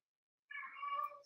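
A pet cat meows once after a moment of silence, a drawn-out, close, clear cry that rises and holds with no other sound around it.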